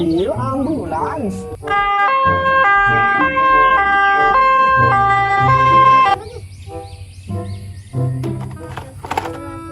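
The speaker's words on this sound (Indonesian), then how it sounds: "Mobil ambulans." A toy ambulance siren gives a repeating two-tone electronic wail near and loud, with people talking briefly around it and a few knocks and clatters after it stops.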